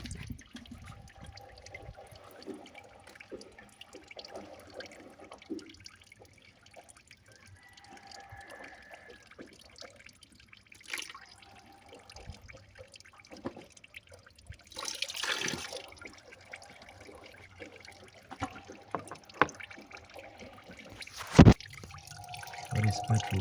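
Petrol dripping from the outlet of a waste motor oil pyrolysis unit, giving faint, irregular small drips and trickles amid quiet outdoor background noise, with a couple of louder bumps.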